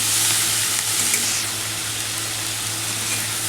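Chigal, a leafy vegetable, sautés in a pan, giving an even, close frying sizzle that eases slightly partway through, over a low steady hum and with no voices.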